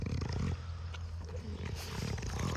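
An Olde English Bulldogge at a stud show growls and grunts deeply while chomping, a rough, continuous rumbling close up with snorting bursts throughout.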